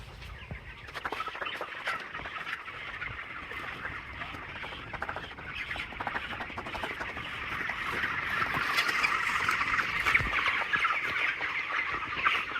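Chickens in a poultry shed built for about 1,300 birds keep up continuous overlapping clucks and calls from many hens. The flock noise swells louder toward the end over a low background hum.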